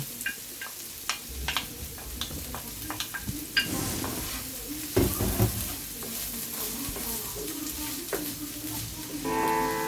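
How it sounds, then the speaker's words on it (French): Chopped onions fry in oil in a pan, giving a continuous loud sizzle broken by clicks and scrapes of a utensil stirring, with a burst of hissing toward the end and no talking. "je vais mettre mes oignons qui étaient hachés"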